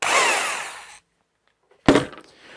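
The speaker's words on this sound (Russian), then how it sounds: "Ну и на всякий случай реверс тоже работает." Rotary hammer drill spinning in reverse mode, a loud steady whir for about a second that stops abruptly, then after a brief silence a second short burst starts sharply and fades.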